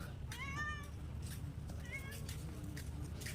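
A wild-looking cat on Bangaram Island, Lakshadweep, gives two or three clear, drawn-out meows, fairly close but soft, over a low steady background hum.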